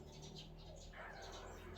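Several small birds chirp and twitter at a distance, a quiet, steady chorus of tweets against faint background hum.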